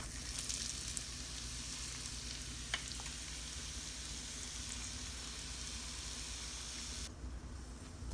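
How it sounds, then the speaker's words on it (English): Chopped onions and garlic frying in a pan at home, a steady soft sizzle running throughout at low level, with a brief clink partway through. "Next, I'm adding in my onions."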